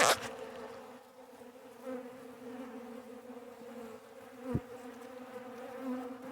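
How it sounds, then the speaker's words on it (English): A dense, steady buzzing of many bees inside an opened hive box fills the recording, close by and continuous, with a brief knock midway through. "A lot of bees in this box."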